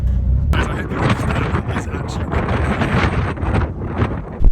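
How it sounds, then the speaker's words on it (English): Strong wind buffets the microphone in a constant loud roar beside a 2007 Ford Focus ST, gusting throughout with a heavier blast at the end. "It's so windy."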